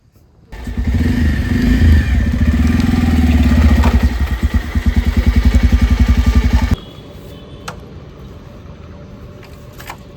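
A motorcycle being taken out and ridden, its engine revving and idling close by with a steady throbbing clatter for several seconds before cutting off abruptly, leaving faint background sounds.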